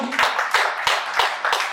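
A church congregation clapping together in a steady rhythm, about five or six firm, evenly spaced beats over a couple of seconds, with a murmur of voices underneath.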